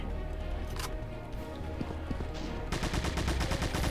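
Gunfire in the shooter game Doom TNT: Evilution, a rapid burst of repeated shots from about 2.7 seconds on over a dense, busy game soundscape, with scattered impacts earlier.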